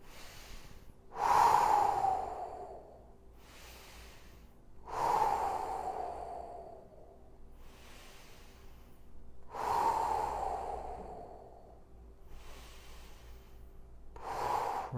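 Deep, slow breathing during a hip stretch in a home workout, with strong inhales and long exhales repeating roughly every four seconds, close and loud, with no talking.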